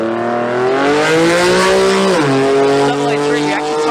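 A Mitsubishi Lancer drag car launches down the strip at a Brisbane sports compact drag racing event, its engine revving hard and loud with a quick gear change and rising pitch as it pulls away.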